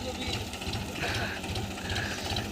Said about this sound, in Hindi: ये ट्रैक्टर में नागर से गन्ने को लगा रहे हैं।